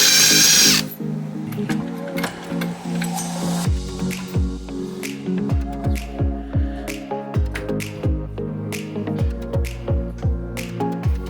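A power drill or driver runs in a steady series of short bursts and pulses, close and loud, while screwing a part into place at the top during work on a VW Passat.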